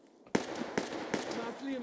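AI soldiers firing in Escape from Tarkov, three distant sharp cracks about 0.4 seconds apart, followed by a faint tonal sound, with voices faintly present underneath.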